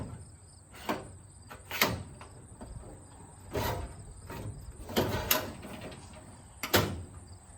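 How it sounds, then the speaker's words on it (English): Drawer of a Snap-on KR-530/558 59th Anniversary Gold Edition tool box under restoration, metal slides rattling and clicking in a series of sharp bursts with short rolling scrapes between them, close by and fairly loud. "And now that drawer is out."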